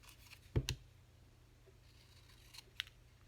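A few quick scissor snips cut down a paper tag for a floral junk journal, close and crisp against a quiet room, then a faint second snip follows.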